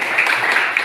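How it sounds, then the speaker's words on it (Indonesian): A class applauds in a classroom, a short burst of close, busy hand clapping at steady loudness. "Kasih tepuk tangan kembali."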